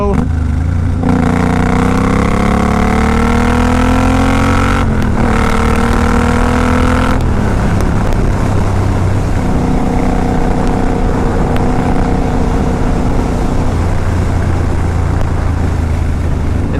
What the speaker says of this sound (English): this is the definition of a hot rod motorcycle.